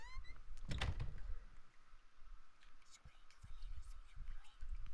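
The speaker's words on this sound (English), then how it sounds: "Doors were opening in there." Doors open inside a quiet house in the horror game Home, with a sharp creaking thunk early on and softer knocks and shuffles afterward, while a faint whispery voice murmurs underneath.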